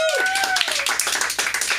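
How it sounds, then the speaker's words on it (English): A crowd at a Funky Friday event at LASC gives a round of applause, steady overlapping hand claps filling the space close by, with a brief tonal sound and a voice at the very start. "The director of marketing over here, Billy Ramirez. Round of applause"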